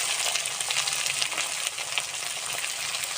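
Spiced masala with grated tomato, ginger, chili, garam masala and turmeric frying in a pan, a steady close sizzle and crackle with occasional stirring scrapes, no voices.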